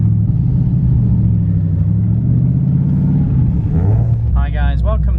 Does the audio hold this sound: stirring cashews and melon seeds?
no